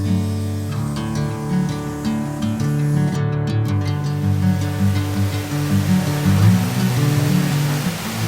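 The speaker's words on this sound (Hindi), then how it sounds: "आखिरकार हम झरने तक पहुंच ही गए।" A waterfall on a monsoon trek pours in a steady, dense roar with no breaks, loud and close, filling the whole stretch with unbroken rushing water.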